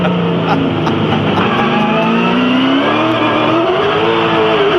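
A V8 Supercar engine roars loud and close at the Adelaide street race, revving with rising pitch through second gear as the tyres spin, with a commentator talking under the noise.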